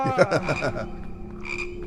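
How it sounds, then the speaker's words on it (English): A frog in the video game PEAK croaks in a quick series of loud, close, throaty pulses. It then trails off into a quieter, higher trill, with no speech. "Oh, I got a frog, Artsy."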